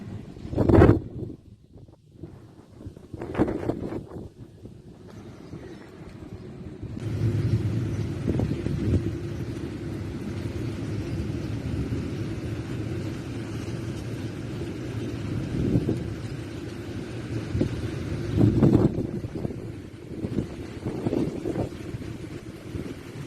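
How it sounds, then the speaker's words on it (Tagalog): Strong sandstorm wind in Dubai, a steady loud roar with rumbling gusts that sounds like passing traffic, running continuously after a few brief thuds at the start. "Ngayon sandstorm na naman. Lakas ng hangin, no?"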